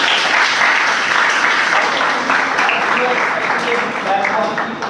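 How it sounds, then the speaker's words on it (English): Dense audience applause fills the whole stretch, loud and sustained without pause, with a few voices cheering faintly over the clapping. "Give a big hand."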